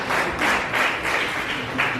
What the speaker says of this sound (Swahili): Hata mjipigie makofi.